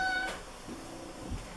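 A pet cat named Piper gives a short, fairly faint meow near the start, followed by soft rustling and a low thump in a quiet room.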